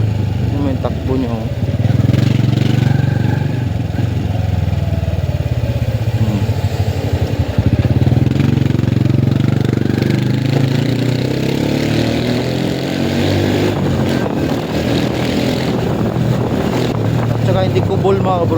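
A petrol motorcycle engine runs close by, a steady loud rumble with some wind noise, while someone talks over it.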